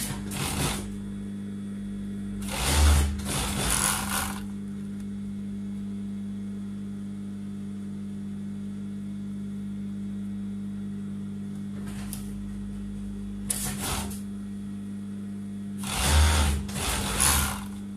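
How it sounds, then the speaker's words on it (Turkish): Overlock sewing machine stitching the shoulder seams of a tunic, front and back pieces joined right sides together; a steady mechanical hum runs throughout, with three louder, rattling bursts of fast stitching near the start, around twelve seconds and near the end. "Şimdi overlock başındayız. Ön ve arkayı düz yüzlerini birbirine çakıştırdık. Ve omuzlarımızı dikiyoruz."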